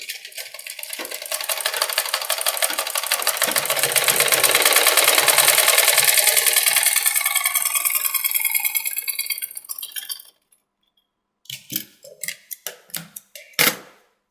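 A sewing machine double-stitches a seam on a princess-cut blouse, running in a steady, dense, close-up clatter for about ten seconds, then stopping, followed by a few sharp handling clicks and knocks.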